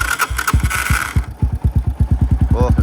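A Yamaha Raptor 250 quad idles low and uneven, its single-cylinder engine thumping in a steady close-up pulse of about eight beats per second, loud and alone with no voices.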